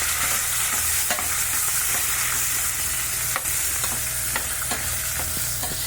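Chopped onions and turmeric sizzle steadily in a hot pan while a spoon stirs them, scraping in irregular clicks over a continuous frying hiss, with no one speaking.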